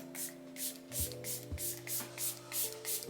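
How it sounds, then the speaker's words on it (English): Makeup setting spray misted onto a face in repeated short bursts, about seven quick hissing pumps in steady rhythm, close and soft, with no talking. "I like to spray my face a few times within makeup application."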